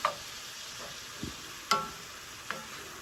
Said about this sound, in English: So we're just going to cook this until the onion is soft.